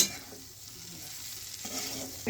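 Potatoes being stirred and roasted in ghee in a pan, giving a steady soft sizzle with scraping stir strokes close up, with no talking.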